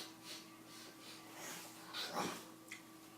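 During a tabletop role-playing session, a voice imitates a large animal, a bear, sniffing. It comes across as faint, breathy snorts and wheezy inhalations that swell into a louder sniff near the end.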